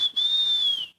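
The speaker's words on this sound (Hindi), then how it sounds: "बस सीटी कौन बजा रहे अभी?" A single sustained whistle blast, shrill and steady for nearly a second with a brief break near the start, then cut off, loud and close with no talk over it.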